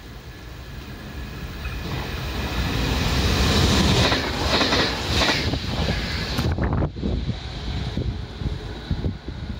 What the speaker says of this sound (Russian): Мощь поезда. Дизель-электропоезд.